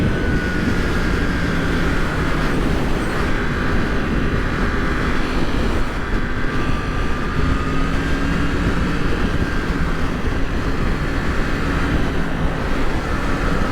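A 2020 Yamaha MT-10 naked motorcycle on a motorway gives a steady, loud engine drone buried in heavy wind roar, continuous throughout with no pauses.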